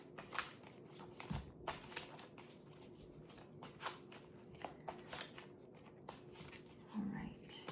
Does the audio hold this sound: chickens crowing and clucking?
no